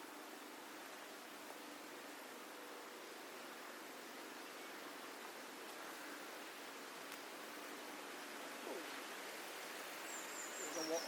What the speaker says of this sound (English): When I say waterfall, I mean not really waterfall. Stream fall.